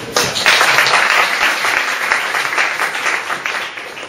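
A crowd applauds steadily, dense clapping from many hands filling the space for several seconds without pause.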